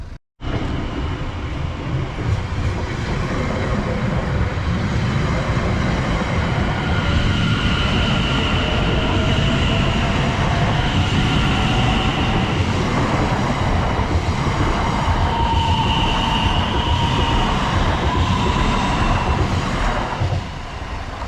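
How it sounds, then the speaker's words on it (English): A Greater Anglia passenger train from Cambridge North to London Liverpool Street rumbles loudly past a level crossing for about twenty seconds, with steady wheel and rail noise and faint whining tones rising and falling. "there goes the 1114 Greater Anglia service from Cambridge North to London Liverpool Street."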